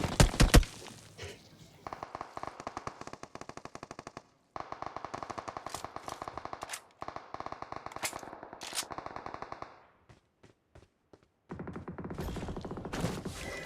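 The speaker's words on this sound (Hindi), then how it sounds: "साइड से बंदूक की आवाज़ आती है" Gunfire in the mobile battle royale game BGMI: bursts of rapid automatic fire in several long strings separated by short pauses, with a few single shots, fairly close and alone without talk.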